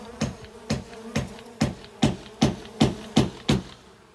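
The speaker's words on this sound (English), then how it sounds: "See all these bees?" Bees buzz at a cracked house door where pollen-laden foragers stream in, a steady drone broken by a regular train of sharp, loud pulses roughly twice a second.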